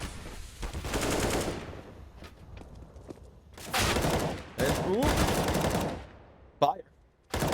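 Bursts of rapid automatic rifle fire and single shots in a CS:GO esports match, arriving in several loud clusters with short gaps between them, plus a sharp burst near the end.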